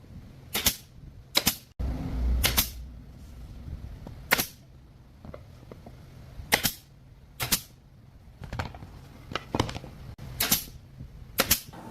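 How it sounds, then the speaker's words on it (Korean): A tacker nail gun fires staples into scrap wood, fixing wooden triangles onto square wooden blocks. About ten sharp, loud snaps come at irregular intervals, with a brief low rumble of handling noise in the background and no talk. "네모 목재 위에 삼각형을 타카로 부착해 줍니다."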